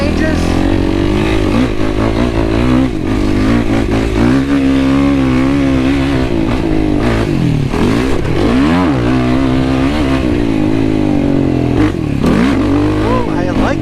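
A Yamaha YFZ450R ATV engine revs and pulls steadily through a motocross track lap, loud and close with rising and falling throttle throughout, while a voice talks over it.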